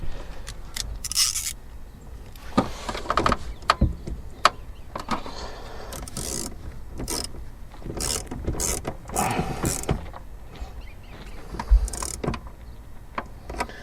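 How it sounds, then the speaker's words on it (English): Mechanical whirring and clicking from a car CD player mechanism in a Volvo, irregular ratchet-like clicks and short bursts over a steady low hum, fairly close. "Sounds like the CD player's working again."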